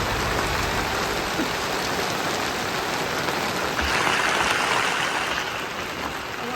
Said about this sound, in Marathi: पावसाचा पाऊस बी चालू आहे